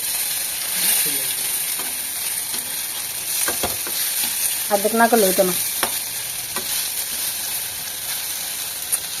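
Bora fritters fry in a shallow film of oil with a constant close sizzle, broken by scraping stirs, while a voice speaks briefly over the cooking.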